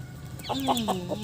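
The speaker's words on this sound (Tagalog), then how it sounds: "yung mga alaga nilang mga manok dito sa mga pato" Several short clucks from chickens in a steady, uneven rhythm, fairly close, over a low background hum.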